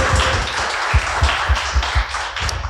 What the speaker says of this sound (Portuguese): Você pode aplaudir o Senhor Jesus mais uma vez?